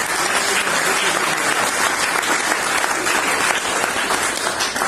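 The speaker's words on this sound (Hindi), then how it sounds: "जोरदार तालियां उनके लिए, सुमन मैडम के लिए" A hall full of people at a Modicare business opportunity meeting breaks into loud, dense applause, a continuous roar of many hands clapping at full strength from start to finish.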